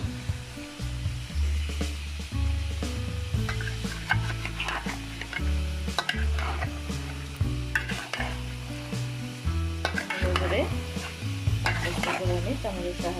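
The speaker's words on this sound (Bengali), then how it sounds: "এখন এগুলি ভালোভাবে আমি চামচ দিয়ে নেড়ে মিশিয়ে দিচ্ছি।" A spoon works braised beef into rice in a pot for beef tehari, producing repeated scraping stirs over a constant sizzle and a steady low hum, close and fairly loud throughout.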